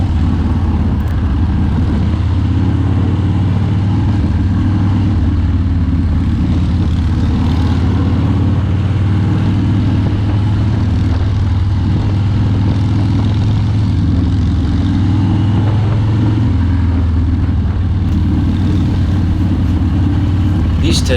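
A custom Harley-Davidson build on its first test ride, its engine giving a loud, steady drone mixed with rushing wind that holds without a break.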